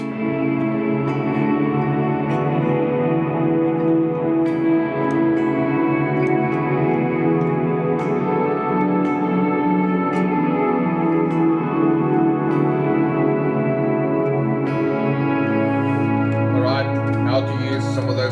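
Sustained electric guitar tones wash together with heavy echo and reverb, forming a continuous worship-style ambient pad that shifts slowly throughout.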